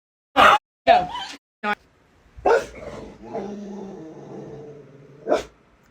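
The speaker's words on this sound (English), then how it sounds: "What are you barking at, Bubba?" A pet dog indoors barks several sharp times in quick succession, then whimpers and grumbles softly before one more bark, close and loud in a quiet room.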